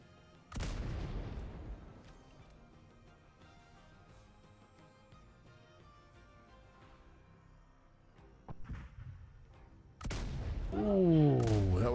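Field cannons fired from a Royal Navy ship in a naval video game: a heavy boom at the start with a long ringing tail, a smaller shot later, then a loud burst of mixed game sounds at the end.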